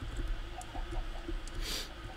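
Chickens clucking at a base in the Minecraft video game; soft, scattered clucks over a low background hum, fairly faint and brief.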